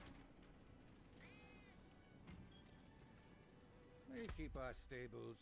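A few meows from a cat mount in Diablo IV at the end, high and wavering, over a low background hum; the cries sound close.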